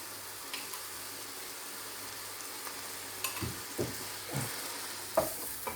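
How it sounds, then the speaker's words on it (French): A spoon scrapes the bottom of a pan while flour is stirred into sweated vegetables and beef shank, a few distinct scraping strokes over a faint, low background sizzle, close but quiet. "racler partout pour récupérer tous les sucres des légumes et de la viande"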